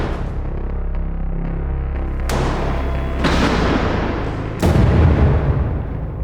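Two loud gunshots ring out a second or so apart, each a sharp crack with a booming tail, over a low background hum.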